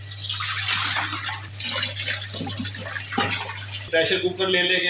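Clean water runs and splashes over raw liver being rinsed for a kaleji masala dish, a running tap pouring under a voice speaking Hindi, with a steady electrical hum beneath.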